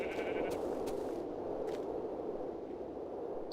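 Sheep in the Minecraft Tekkit video game give a few short bleats early on, set against a steady hiss-like ambient background.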